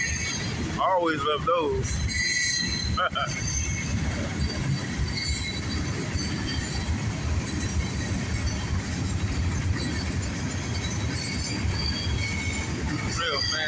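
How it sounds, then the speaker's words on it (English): A northbound CSX mixed freight train passes steadily and loudly, a continuous rumble of rolling cars and wheels with faint squeal, while someone speaks briefly near the start. "Good freight train right here."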